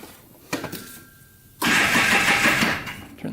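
A junk ATV 4x4 engine starts: a short electric starter crank and whir, then after a pause the engine catches and runs loud and rough at close range before easing slightly at the end.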